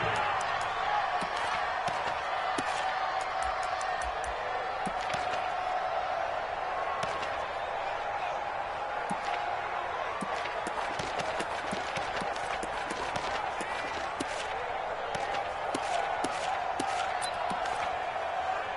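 A football stadium crowd at a Raiders versus Bears game sends up a steady, broad roar that swells slightly in places, with a commentator talking over it.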